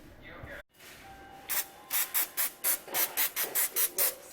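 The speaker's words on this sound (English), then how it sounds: "Let's give her a stir." A spoon stirs Zatarain's cornbread mix with milk and egg in a bowl, giving a quick run of rhythmic scraping strokes, close and fairly quiet, with no talk.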